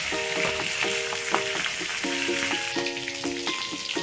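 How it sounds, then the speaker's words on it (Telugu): Pieces of fish frying in hot oil in a pan, a steady dense sizzle and crackle throughout, close and loud, with no talk. "ఈ కలర్ వచ్చే వరకు వేపించి పక్కకు తీసేసుకోండి"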